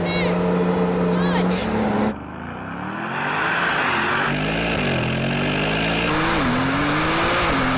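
A Porsche 911 Turbo S launching off the line in a drag race, engine held on the brake then surging up through quick gear changes, loud and close from inside the car.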